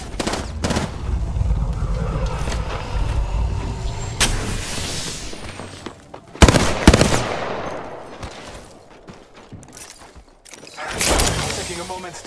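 Gunfire in a shooter video game, bursts of shots and impacts over engine-like rumble and game effects, with a character's voice speaking briefly amid the action.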